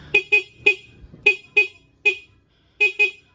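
Short, sharp beeps from a motorcycle's replacement horn in an uneven pattern, about eight toots with gaps between them, loud and close with no voices.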